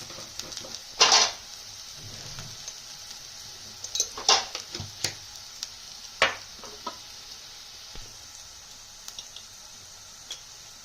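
Spices of turmeric, chili powder and salt stirred into a pan of frying onions for pakodi pulusu, a faint steady sizzle broken by a few sharp scrapes and clinks of a spoon against the pan.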